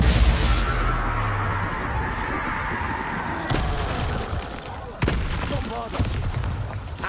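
Magic spell explosions and booming blasts in the video game Hogwarts Legacy, loud repeated bursts with sharp impacts near 3.5 and 5 seconds over dense game noise, with voices shouting spell incantations.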